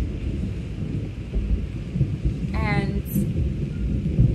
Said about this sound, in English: I don't know if you heard that lightning.